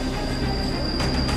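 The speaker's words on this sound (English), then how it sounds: "causing the train to have to put on their emergency brake." A loud, continuous metallic screech of train wheels under hard braking, with a sustained high-pitched squeal over heavy rumbling.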